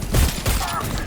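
Rapid gunfire in a Cyberpunk 2077 firefight, a quick run of deep, thumping shots close by, loud and dense over about a second.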